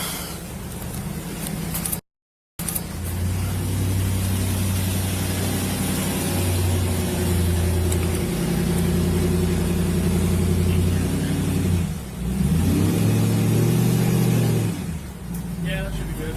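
A large vehicle backs out through a tight spot with almost no room to turn around, its low engine droning steadily and swelling briefly as it maneuvers, with people talking over it.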